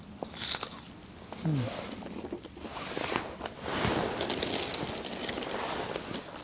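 Someone bites into a bacon burger loaded with extra onion, giving a close crunchy bite and chewing at a campsite beside a van, with faint outdoor background noise.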